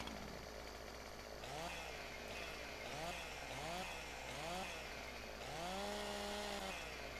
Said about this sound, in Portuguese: E já tem a motosserra.